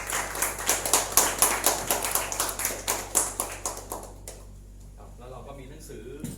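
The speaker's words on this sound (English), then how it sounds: "A round of applause, everybody." Audience at a Champreneur Talk event in Thailand claps in a brisk, sharp burst of applause that fades out after about four seconds, leaving near silence with faint room sounds.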